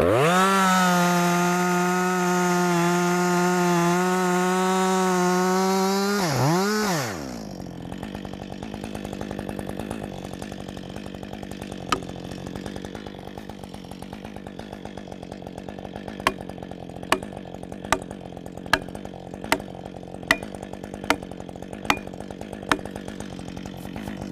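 Chainsaw roars loudly at a steady high pitch for about seven seconds while cutting through a tree trunk during felling, then abruptly cuts out, leaving low idle rumble and scattered sharp ticks and snaps of wood afterward.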